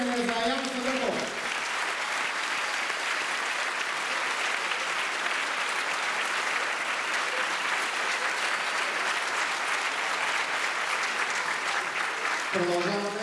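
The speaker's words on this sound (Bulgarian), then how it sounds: "още веднъж вашите аплодисменти и скандиране за Аян Садъков" Loud, sustained applause from a large audience at a Christmas event, with dense clapping that fills the clip almost without a break and a voice briefly at the start and end.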